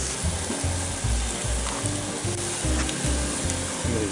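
Seasoned steaks sizzle in hot oil in a pan, a steady close frying crackle with soft rhythmic scraping or stirring noises repeating through it.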